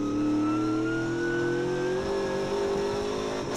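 Formula race car engine at a circuit, a loud close high-pitched drone that climbs steadily in pitch as it revs through a gear, with no talk.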